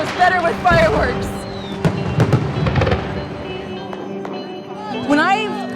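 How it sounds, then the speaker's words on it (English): Fireworks go off at the Dai New Year water-splashing festival in Xishuangbanna, China, with loud crackling bangs and whistling rockets rising among a noisy crowd as people talk nearby. "Everything's just better with fireworks."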